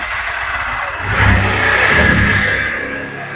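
A used 2018 motorcycle at a bike showroom is started and revved, its engine rising from a low idle into a loud, close surge and easing back down, with no talking.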